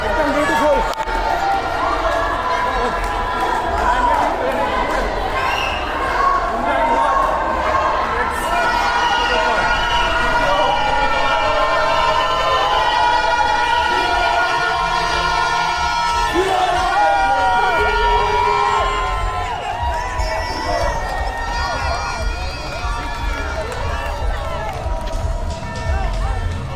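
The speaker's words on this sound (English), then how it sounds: "this is the crowd on both sides of the road" Roadside spectators cheer continuously for Comrades Marathon runners around the 58-kilometre mark, a dense crowd lining both sides of the road. The loud, steady roar of shouting and whooping holds without a break for the whole stretch.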